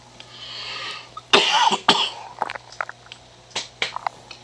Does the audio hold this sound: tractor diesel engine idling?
no